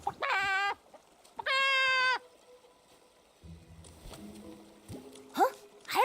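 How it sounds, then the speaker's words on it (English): Rhythmic, bird-like clucking calls from a giant Barrison bird statue in the video game Infinity Nikki. Two strong bursts are followed by quieter tones and softer sounds. "It's clucking already?"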